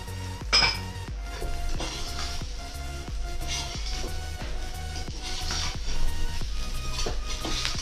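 Wheat-flour fara being mixed in a pan with a spoon, bright metallic clinks and scrapes repeating in irregular strokes, close and fairly loud, with no one speaking.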